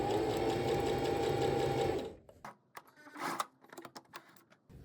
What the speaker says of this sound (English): now I'm going to go in and sew this with a 1/4 of an inch seam allowance